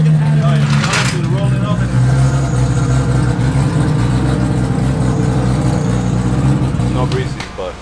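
A Formula Drift car's exhaust rumbles loud and close at the Orlando track, idling and revving steadily with a brief high burst early on, while people talk over it.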